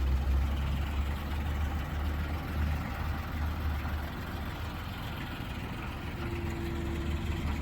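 A tractor engine idles with a steady low rumble at a deck and ramp building site, running continuously at moderate level with no talk.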